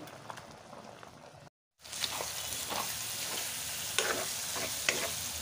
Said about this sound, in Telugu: ఇలా వాటర్ మొత్తం ఇంకే వరకు అయితే మనం ఈ ఆయిల్లో వేపుకుంటూ ఉండాలి.